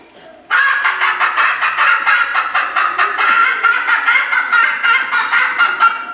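A dense chorus of chicken clucking and squawking fills a school annual day play, loud and steady with rapid overlapping calls that start abruptly and continue without pause.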